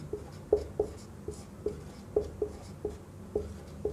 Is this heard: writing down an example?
yes